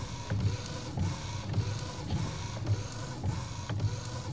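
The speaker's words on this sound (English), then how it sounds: "the lab can be filled with a symphony of melodic printing, an orchestra of technology spitting out high-definition ultra-chrome fine art pieces." Several fine art inkjet printers running in a print lab, producing high-definition UltraChrome prints: a steady mechanical whir with a repeating carriage pass roughly every half second, close and continuous, with no talking.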